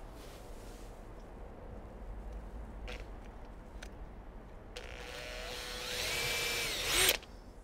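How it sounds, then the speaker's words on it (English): A power drill with a 4mm bit whirs up loudly for a couple of seconds near the end, drilling into neoprene plugs, rising in pitch before stopping, after quieter handling noises. "I'm just going to drill a hole in the center of each one of these plugs."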